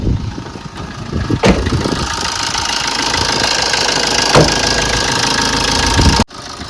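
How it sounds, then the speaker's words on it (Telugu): A 2014 Maruti Suzuki Swift VDi diesel engine idles with the bonnet open, giving a steady, close, knocking rumble that holds evenly before cutting off abruptly near the end. "మీరు ఇంజన్ సౌండ్ అయితే వినొచ్చు"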